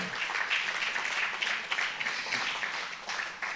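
A church congregation applauds steadily, a dense wash of many hands clapping at even volume throughout, with no voices standing out.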